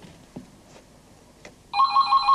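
A telephone rings in a quiet room just as people sit down to eat, its bright electronic trill starting loud and close after a few soft knocks and continuing steadily.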